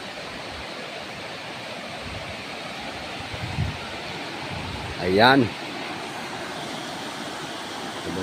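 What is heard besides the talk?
water flowing at a dam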